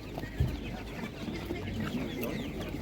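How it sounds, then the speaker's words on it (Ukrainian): Hens clucking in short low bursts against a steady background at an animal market, one louder cluck standing out near the start. "Дуже гарна курка, дивіться, як гарна."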